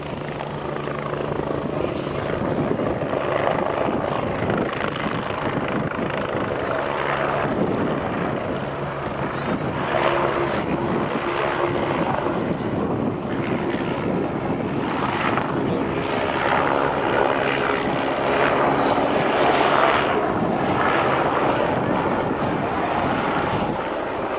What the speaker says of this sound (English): the Augusta 109BA of the 18th Squadron of Comox Air comes in for its landing with its non-retractable undercarriage